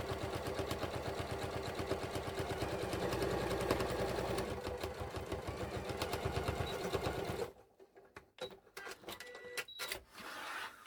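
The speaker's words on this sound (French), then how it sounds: "on vient de coudre notre rabat sur nos tissus extérieurs" A sewing machine stitches a flap onto the outer fabric of a denim shoulder bag made from old jeans, running in a steady rapid chatter for about seven seconds before stopping, followed by quieter handling clicks.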